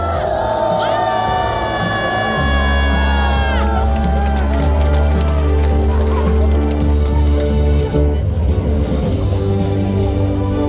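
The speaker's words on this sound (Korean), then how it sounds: "함성으로 우리의 힘을 여러분 보여주십시오" A large outdoor political rally crowd in a station square shouts and cheers, loud and sustained, over booming music from the stage.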